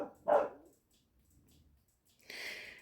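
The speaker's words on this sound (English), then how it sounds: "Sorry, the dog is barking now." A dog gives a single sharp bark nearby, followed by quiet, then a breathy, noisy burst of sound.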